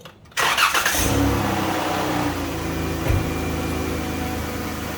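A 2013 Dodge Grand Caravan engine cranks briefly and catches, then settles into a steady close idle with a small bump in revs partway through; no one speaks.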